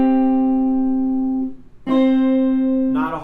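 Slightly out-of-tune guitar sounding a perfect interval, a close sustained tone that fades, then a second plucked note ringing steadily before another pluck at the end.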